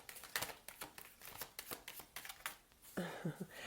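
Cards riffled and shuffled in several quick bursts, close and crisp, followed by a soft clattering at the end.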